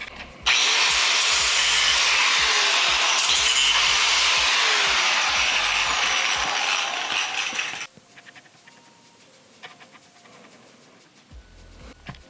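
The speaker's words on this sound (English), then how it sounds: "Then I'll tighten it down and I'll just cut along that line" A part for a car's front end is cut along a marked line with a loud, close, harsh grinding and whining cut lasting about seven seconds, after which it stops abruptly and leaves quieter handling clatter.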